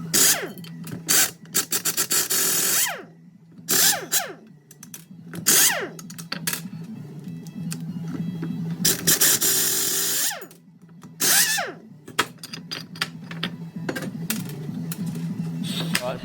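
A power tool rattles a sprocket off a motorcycle's rear wheel carrier in loud, close bursts of several seconds each, separated by brief pauses, during a custom CBR 450 build.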